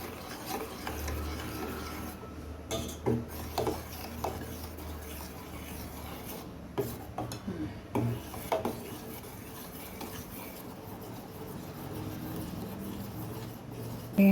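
A spoon rasps and scrapes steadily against a pan as a thick egg sweet mixture is stirred continuously, with soft rhythmic rubbing, a few sharper clinks, and quiet throughout.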